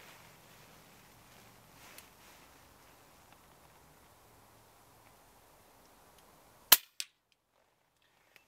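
An FX Crown air rifle fired outdoors at a target about 50 yards off, with a single sharp close crack after a quiet stretch of faint rustling, then a quick second snap and silence.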